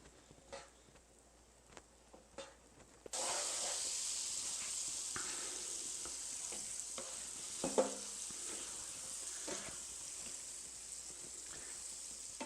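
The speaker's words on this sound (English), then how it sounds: "we're going to add 40 milliliters or 3 tablespoons of butter to the pan and let it melt" Butter drops into a hot pan for a one-pot stroganoff. After a few quiet knocks it bursts into a sudden steady hiss and sizzle that stays even and close, with the odd soft tap.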